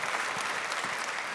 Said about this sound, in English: But you don't have to clap.